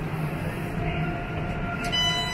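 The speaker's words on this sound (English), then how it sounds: "That's the inside of the train." A steady low rumble with faint tonal hum fills the interior of a train, continuous and even, with no voices.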